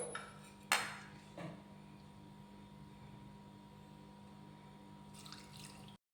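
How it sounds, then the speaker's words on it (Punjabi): Water steeped with tea leaves is poured into a kadhai, a soft, steady trickle opened by a couple of sharp metal clinks, then running quietly until it stops abruptly. "ਆਪਾਂ ਚਾਹ ਪੱਤੀ ਵਾਲਾ ਜਿਹੜਾ ਪਾਣੀ ਆ ਉਹਨੂੰ ਆਪਾਂ ਪਾਉਣ ਲੈਨੇ ਆ"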